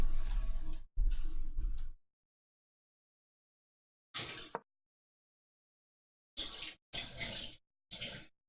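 Water gushes from a tap in short bursts, two longer runs followed by several brief splashes with silence between, close and moderately loud with no talking.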